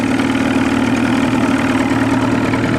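A boat motor idles steadily with a constant low rumbling drone, loud and close, with no voices over it.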